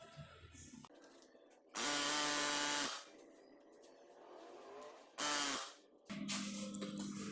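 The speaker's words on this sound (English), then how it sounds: "Maybe a little rust penetrant, some spray in here, maybe on the back side." Rust penetrant is sprayed onto the rear wheel bearing of a 2017 Subaru Crosstrek, three sharp hissing aerosol bursts, two long and one shorter, close up between quiet shop pauses.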